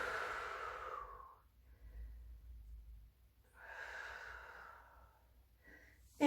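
A person breathes out slowly during a side stretch, two soft, drawn-out exhalations a couple of seconds apart, close and quiet, with a faint breathy catch at the end.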